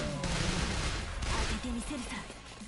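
Rapid gunfire from a zombie shooter video game, with dense, overlapping shots crackling loudly and continuously through the whole moment over a low game backdrop.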